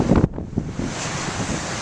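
Big ocean waves breaking on a windy shore, a heavy low rumble and wash of surf with buffeting wind noise on the microphone, loudest in the opening moment and then settling into a steady roar.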